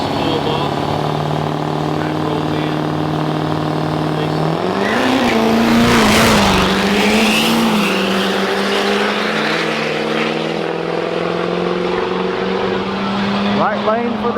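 Diesel trucks drag racing at Rudy's Fall Truck Jam 2018 roar past, their engine drones climbing in pitch with a brief tire squeal, while an announcer-like voice talks over the noise.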